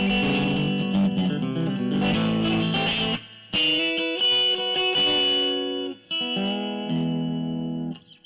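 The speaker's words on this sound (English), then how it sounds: "This is a telly. I like it for the country stuff because this is very clean." Squier Telecaster electric guitar on a clean country-style tone, with ringing chords and single notes that sustain and then break off, played alone.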